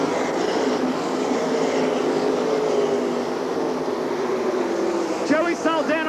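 Sprint cars racing at Eldora Speedway in 1997, a dense continuous engine roar from the pack rounding the dirt oval, loud and steady, with a commentator talking over it.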